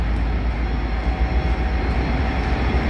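A train rumbles loudly and continuously nearby at Ogilvie train station, a steady low roar with rolling rail noise and no voices.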